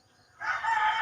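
A rooster crows once, fairly near and loud, the call starting abruptly and holding through to the end after a brief quiet lead-in with faint low background sounds.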